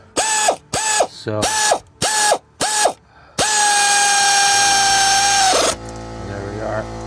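Ratchet wrench and power tool tightening bolts on a water pump of a 2000s Subaru Forester: five quick buzzing bursts, then a long sustained whir that cuts off, close and loud, with a brief spoken word.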